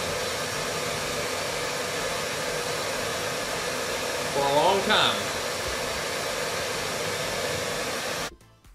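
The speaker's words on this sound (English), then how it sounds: "we have the hairdryer running full blast, you know, to this thing" A hair dryer blows full blast into a rusted ATV gas tank to dry it, a steady loud whooshing hiss with a brief spoken phrase over it before it cuts off.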